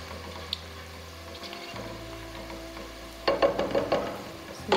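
Whole garam masala and onions fry in hot oil with a soft, low sizzle. Brief scraping and stirring sounds rise near the end.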